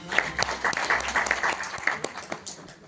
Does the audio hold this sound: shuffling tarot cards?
no